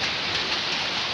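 Heavy rain pours at a pigeon loft during a pigeon toss, a dense, loud, unbroken hiss of downpour with no gaps and no voices.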